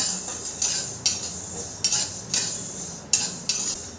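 Spoon scraping fennel and whole spices dry-roasting in a pan for raw mango pickle, giving about eight sharp metallic scrapes and clinks at a steady, uneven rhythm, close and clear over quiet background.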